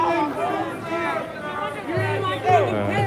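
Protest crowd in downtown Portland, a dense murmur of many overlapping voices close around, with individual people talking loudly through the babble.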